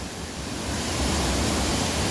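A waterfall at Aibga near Sochi pours into turquoise water, a loud, steady broadband roar that continues unbroken with no voices.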